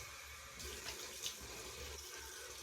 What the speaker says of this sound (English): I do 2 of my hot rinses.